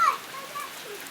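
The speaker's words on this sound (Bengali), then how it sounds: "এখন কিন্তু হালকা হালকা বৃষ্টি পড়তেছে।" Light rain falls steadily after a hailstorm, a soft, even wash of patter that stays faint and continuous throughout.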